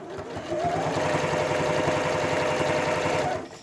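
A sewing machine stitching binding onto a quilt runs in a fast, even rhythmic whir for about three seconds, close and clear, then stops.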